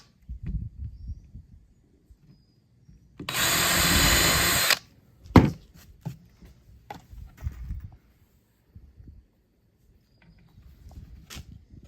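A power drill whirs in one steady burst of about a second and a half, boring pilot holes into a wooden nesting box, set among quiet knocks and handling sounds of wood being positioned.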